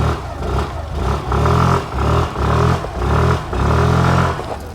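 A Suzuki Access 125 scooter with a chrome-plated side exhaust is revved in repeated short bursts, its small engine climbing and settling back to idle about five times, loud and close.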